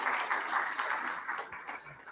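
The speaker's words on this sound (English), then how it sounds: "Let's give Shaun another round of applause." Modest, fairly faint applause from a lunchtime history lecture audience, steady and then gradually tapering over a couple of seconds.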